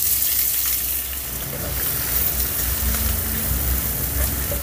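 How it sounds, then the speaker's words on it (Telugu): Thinly sliced onions fry in hot oil with cumin seeds and dried red chillies, making a continuous close sizzle with a soft, even hiss and faint crackling. No voices are heard. "ఇప్పుడు ఈ ఉల్లిపాయల్ని మంచి బంగారు వర్ణం వచ్చేంత వరకు వేపుకుందాం."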